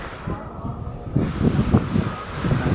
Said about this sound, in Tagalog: ang lakas ng alon, grabe